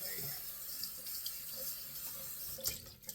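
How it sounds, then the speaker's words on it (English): Tap water running steadily into a sink during a rinse after a shave, a close, continuous splashing stream with a few louder clatters near the end. "I'm going to rinse one more time."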